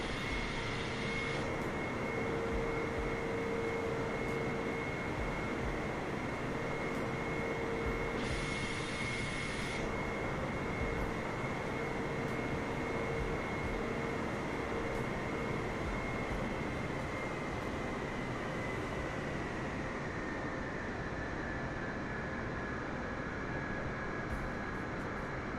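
A KLM Boeing 747-400 taxis in the flight simulator MSFS2020, its jet engines giving a steady, close rumble under a thin, constant whine that runs unbroken and alone.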